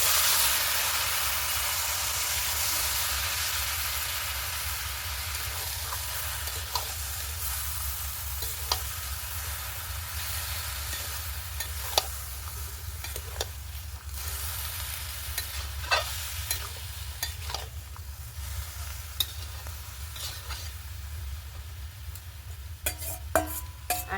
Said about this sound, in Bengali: এবার শাকটা দিয়ে দেবো।